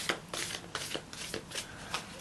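A new tarot deck is shuffled by hand, close soft riffling bursts of card edges repeating in an uneven rhythm, quiet and without talk.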